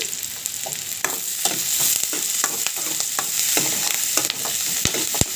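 Onions and slit green chilies fry in oil in a pan with a steady, loud sizzle, and a spoon stirs and scrapes the pan now and then. Two sharp knocks come near the end.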